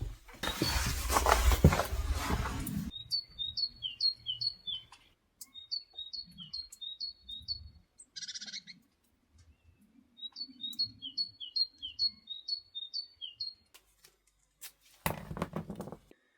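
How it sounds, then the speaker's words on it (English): A small bird sings bright, repeated chirping phrases in short bursts, fairly close, in an otherwise quiet space after a loud rustle at the start. "Listen to this bird."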